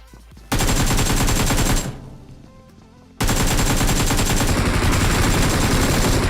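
Dense, rapid gunfire from a battle royale video game, loud and continuous bursts that stop abruptly, leaving a quieter stretch of softer rumbling before another sustained volley erupts and carries to the end.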